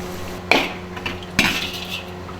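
Spicy chicken with chilies scraped from a wok onto a large tray, two sharp metal clanks of spatula against pan with brief scraping after each, close and clear.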